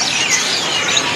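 Caged birds at a bird shop kiosk chirp and twitter continuously in a dense, bright chorus, fairly loud and close, with no voices.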